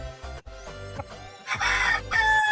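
Backyard chickens and chicks on a Philippine farm, close clucking and short calls repeating in quick bursts, with a louder crow-like call rising near the end.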